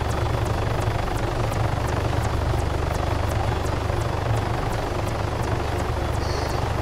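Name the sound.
helicopter in video game Arma 3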